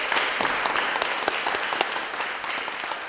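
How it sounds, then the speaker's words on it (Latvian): Audience applause at a live improvisation masterclass, steady dense clapping from a room full of people, loud and continuous without a break for the whole stretch. "Aplaus! Jūs aplaus!"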